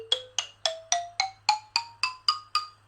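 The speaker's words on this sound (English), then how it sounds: "So we call it a balafone from Ghana" A Ghanaian balafone, a wooden xylophone, played as ten evenly spaced struck notes rising step by step in pitch, each with a sharp wooden attack and short ringing decay, close and clear with no talking.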